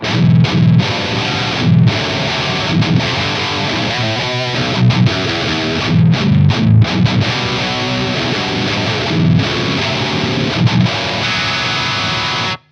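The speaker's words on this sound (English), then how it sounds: "it has that very unique sandy texture in the distortion" Heavily distorted electric guitar played through a preamp into a Mesa 4x12 cabinet, a sandy, saturated tone with chugging palm-muted riffs and sustained chords, loud and continuous with short rhythmic stops, ending abruptly.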